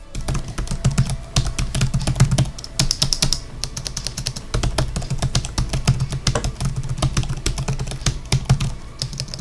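Rapid, steady typing on the keyboard of an ASUS ROG GU501 gaming laptop. Dense clicking keystrokes come close and clear for the whole stretch, with no voices.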